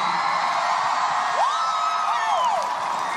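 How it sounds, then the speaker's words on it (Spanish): Crowd at an awards show roars and cheers, with a sustained wash of noise and a few high whoops rising above it. "Yo quiero un aplauso para la reina de Brasil"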